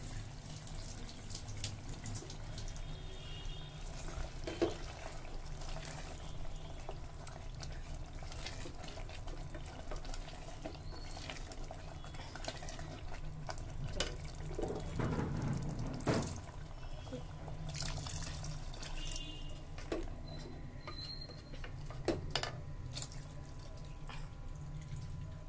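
Water poured into a pot of Hyderabadi mutton khorma while cooking, a continuous soft splashing and trickling with faint dripping and low kitchen rumble, no voices.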